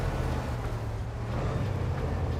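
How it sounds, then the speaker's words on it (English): Hercules scout truck engine in SnowRunner rumbles steadily, a low continuous drone heard close up with no other sounds. "Listen to that engine."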